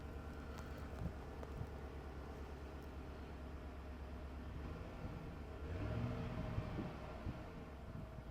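A Chevrolet Tahoe with a 5.3 liter Vortec V8 idling at a public auction, a low, steady engine rumble heard from nearby, with a brief rise in level toward the end and no talking.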